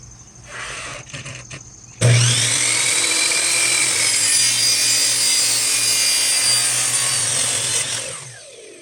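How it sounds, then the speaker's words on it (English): A miter saw cuts through a wooden piece for a chicken feeder: a quiet motor hum for two seconds, then a loud, sustained rasping blade-through-wood roar for about six seconds before it winds down. "I'm going to be using my miter saw to cut off about 1 inch to 3/4."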